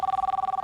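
A telephone ringing with a rapid, trilling electronic warble, pulsing steadily at a fast rate and heard clearly on its own for a brief moment.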